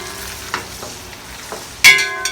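Cabbage with popcorn ham popping and sizzling in a pot while smothered cabbage cooks, with a steady frying hiss broken by a few sharp pops and one louder burst near the end.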